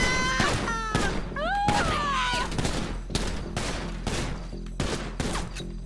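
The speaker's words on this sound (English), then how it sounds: "Dear God, Bryce, you sure like getting your headshots in, as do most people in this city." Gunfire in a roleplay video game, repeated sharp shots in rapid bursts across the whole stretch, loud and close, with some chatter and other game sounds mixed in.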